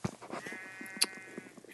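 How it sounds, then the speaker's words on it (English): A sheep in the Minecraft video game gives a short, faint bleat amid soft game sounds, with a brief bright chime partway through. "there's a sheep right here"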